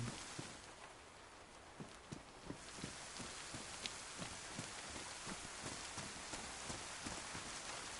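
Rain from the survival video game DayZ falls steadily as a dense hiss, with scattered sharper drops or taps landing at an uneven rhythm over the top, quiet and continuous with no voices.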